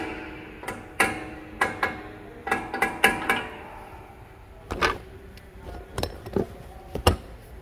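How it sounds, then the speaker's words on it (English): Hammer tapping brake caliper pins and their end rivets into a 2020 Chevy Tahoe front brake assembly: sharp metallic taps, single and in quick clusters, spaced irregularly across the clip with quiet gaps between. "take that hammer and tap the pins in"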